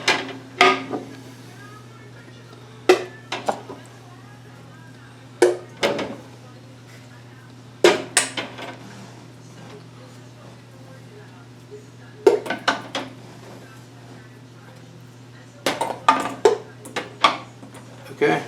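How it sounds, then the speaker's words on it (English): Glass canning jars go down into a pressure canner in scattered clinks and knocks, with sharp clatters between quieter stretches over a steady low hum. "I'm just going to make sure these lids are good and snug as I lower everything in."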